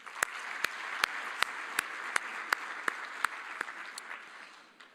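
Dinner guests at a Team Botswana appreciation evening give a round of applause, a steady wash of many hands clapping at moderate distance, punctuated by sharp regular flash-like clicks, fading out at the end.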